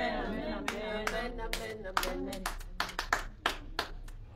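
A church congregation claps during a French-language sermon: irregular, sharp handclaps in short bursts, some close and loud, mixed with a preacher's voice speaking over them.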